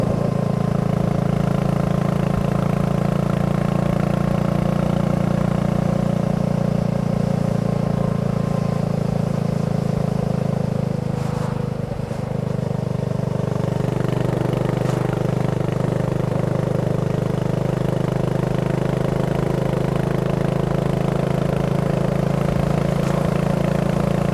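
A BSA Goldstar 650 motorcycle ridden over an undulating road, its engine droning steadily and loudly throughout with a little wind rumble and brief shifts in tone, and no voices.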